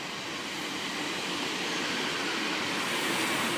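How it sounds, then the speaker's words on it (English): A broad, steady rushing roar of a two-coach East Midlands Class 156 diesel passenger train arriving close by at Lincoln Central station, loud and continuous, swelling slightly as it goes. "East Midlands train service from 6410 from Leicester."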